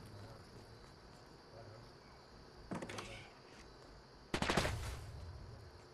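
Two short bursts of rapid gunfire ring out in a Fortnite match, the second louder and longer, over a faint, steady background.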